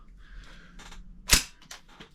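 Gas airsoft rifle firing: one sharp, loud crack near the middle, with a few softer snaps and clicks around it, close by and with no talk.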